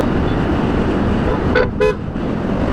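Two short car horn honks in quick succession, the second slightly longer, sounding over a steady wash of nearby road traffic noise.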